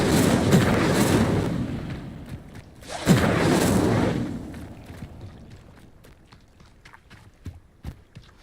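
Hogwarts Legacy Incendio fire spell bursting twice in heavy whooshing roars of flame, each swelling then fading, followed by lighter scattered clicks and footsteps.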